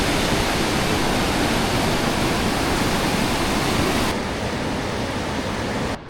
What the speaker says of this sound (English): We are at La Hardy Rapids.